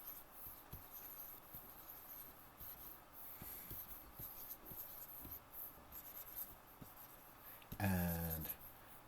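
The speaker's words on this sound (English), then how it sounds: "notice this is like really loose drawing" A pencil scratches a loose sketch of a car on paper, a continuous soft scribbling rasp with light taps, close and steady, and a brief voice near the end.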